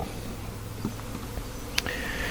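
A low, steady drone of honey bees at a mating nuc hums throughout, with faint scattered ticks and a brief sharp click near the end.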